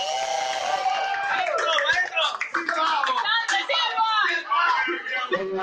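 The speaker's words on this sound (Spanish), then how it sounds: "Un aplauso grande para la banda." Applause from a concert audience for a band, clapping that rises and thins out over several seconds while someone talks loudly over it.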